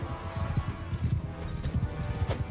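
Horse hooves clip-clop steadily at a walking pace in Mount & Blade 2: Bannerlord, a close, even rhythm of muffled thuds under a low ambient hum, with no talking.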